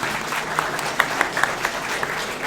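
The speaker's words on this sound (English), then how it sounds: "Give yourself a round of applause." Live-stream studio audience at a Gerry Anderson fan event applauding, a steady wash of many hands clapping with a few sharper individual claps standing out, moderately loud and continuous.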